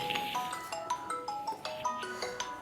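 Mobile phone ringtone sounding in a room, a repeating electronic melody of short bright tones chiming in a steady rhythm, moderately loud and alone.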